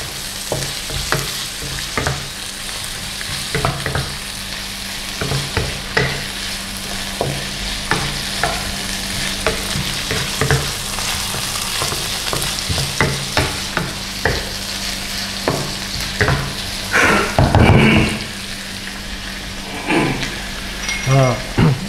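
Carrots stir-fried in a pan for beef yaki udon, a steady close sizzle with frequent spatula scrapes and stirring clatter throughout, a louder burst of frying near the end.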